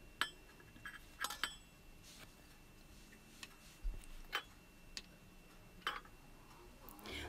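Knife chopping a bar of chocolate into small pieces on a board, giving sparse, sharp clicks and taps spread unevenly across a quiet background, a few louder strikes standing out.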